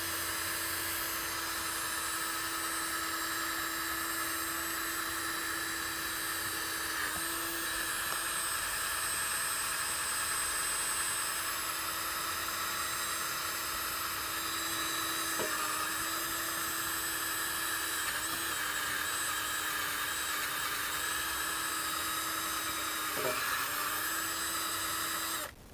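A steady, high-pitched electric drill whine runs continuously with a constant tone while polishing an old Harley-Davidson motor part, brief dips in pitch where the bit bites into the work.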